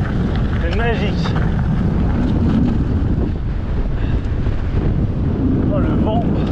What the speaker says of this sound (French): Oh le vent, un peu chiant.